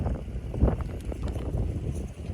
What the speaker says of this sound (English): The wind is awful.